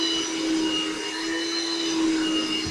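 Hoover Jovis wet/dry compact vacuum runs at full power drawing water up from carpet, a steady loud motor whine with a strong sustained tone and no voices.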